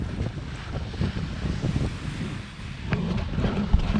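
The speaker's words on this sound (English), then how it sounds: "18 knots of wind." An 18-knot wind blusters across a beach, with gusty buffeting and rumbling against the microphone over a low wash of surf, steady and fairly loud throughout.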